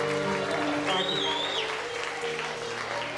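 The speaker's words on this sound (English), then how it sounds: "Please make a round of applause if you would please for Mr. Doug Greenwald right out front" Applause from guests at a 1996 bat mitzvah celebration, honouring a man introduced at the front, a steady wash of clapping filling the room at moderate level, with a voice speaking over it.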